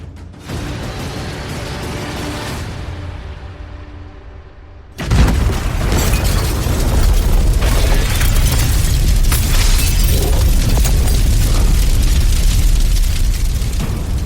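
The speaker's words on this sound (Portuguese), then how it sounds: "Do interior da residência da embaixada chega o som de uma violenta explosão, muito mais violenta do que a ouvida há cerca de 1 hora." Violent explosion at an embassy residence, a sudden loud boom after a quieter stretch, followed by sustained heavy rumbling and crackling noise.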